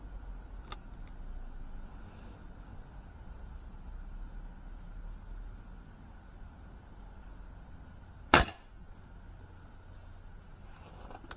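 Single sharp air rifle pellet shot at a paper target on a Caldwell shooting rest, one brief loud crack standing out against a steady low background hum.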